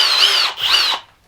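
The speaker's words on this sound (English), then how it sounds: "Let's go ahead and drill this all the way down." A Kobalt cordless drill drives a 10-inch screw into wood in two loud, close whirring bursts that rise and fall in pitch, then stop abruptly.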